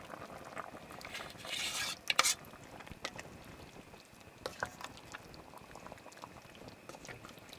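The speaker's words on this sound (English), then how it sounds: "Last step, we're mixing in that flour and water mixture." Flour and water slurry being stirred into a simmering stew, with steady soft bubbling and faint spoon scrapes and clinks in a quiet outdoor rainy-night camp setting.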